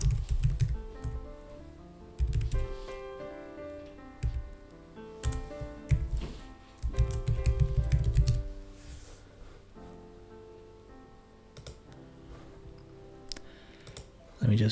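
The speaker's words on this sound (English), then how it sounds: "Damn keyboard." Someone types on a computer keyboard in bursts of rapid clicks and clacks, separated by short pauses, close and fairly loud, with talking mixed in.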